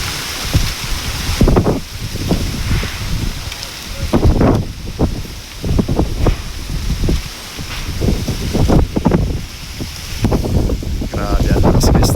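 Strong habagat monsoon wind roars continuously across an open coastal site at low tide, buffeting the microphone with heavy gusting rumble and rustling, loud and unbroken throughout.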